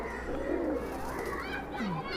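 A Madrasi pigeon gives soft, short coos against a low, steady background murmur with faint voice-like sounds.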